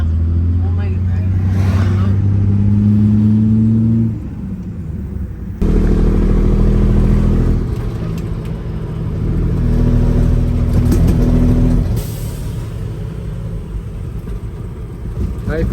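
A junkyard Peterbilt 379 truck labors in fourth gear with its engine droning low and heavy, dipping briefly then surging back in a steady, strained rumble close to the cab, with voices talking over it.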